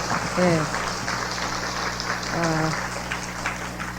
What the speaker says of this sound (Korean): 크게 환영의 박수를 부탁드리겠습니다